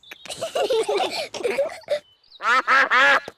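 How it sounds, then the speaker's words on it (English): Cartoon ducks quack at a picnic by a pond; several loud, nasal quacks come in a quick run after a stretch of talk, close and prominent. "it's the ducks. They always turn up when we have a picnic."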